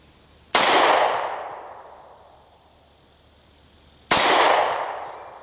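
Two sharp pistol shots from a Taurus GX4 handgun at an outdoor range, about 3.5 seconds apart, each a loud crack followed by a long ringing decay, with a steady high insect-like whine in the background.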